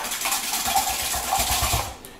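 Two eggs whisked in a mixing bowl with a utensil: quick, rhythmic clicking scrapes against the bowl, steady and close for about two seconds before stopping.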